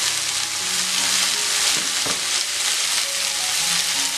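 Capsicum fries with salt in a pan while being stirred, a continuous close sizzle with occasional scraping knocks of the spatula throughout, no talking.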